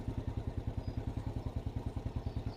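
A motorcycle engine idles steadily after its carburetor idle and fuel mixture screws were adjusted, with an even, rapid thumping putter close by and no talking.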